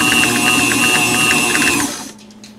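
Electric stand mixer whirring steadily at speed through pecan shortbread dough, a loud continuous motor hum with a rhythmic beater tick, cutting off abruptly near the end.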